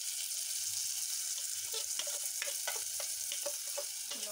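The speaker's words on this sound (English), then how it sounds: "I am adding my onions" Onions fry in a pan for a sausage stew, giving a steady close sizzle with a few stirring scrapes and clicks.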